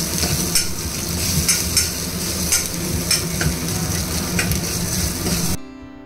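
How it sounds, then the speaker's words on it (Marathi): Chopped onion with ginger-garlic paste sautés in oil, a loud continuous sizzle punctuated by regular spoon strokes against the pan, then cutting off abruptly near the end. "त्यानंतर बारीक चिरलेला कांदा पण छान नरम होईपर्यंत भाजून घ्यायचा आहे।"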